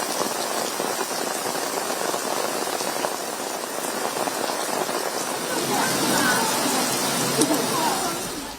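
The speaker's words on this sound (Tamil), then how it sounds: "இடி மின்னலுடன் கனமழை பெய்தது" Heavy rain pours steadily in a thunderstorm, a dense continuous hiss that swells slightly toward the end, with no clear thunder clap standing out.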